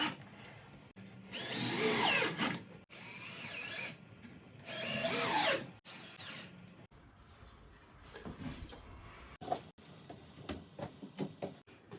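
A power drill runs in two loud bursts of roughly two seconds each while a backyard bar is built from construction lumber, followed by quieter handling and knocking sounds up close.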